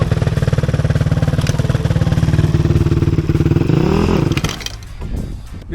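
A dirt bike engine runs loud and steady with a buzzy, throbbing tone while riding in Mudgee, rising slightly in pitch before cutting back abruptly to a lower idle near the end.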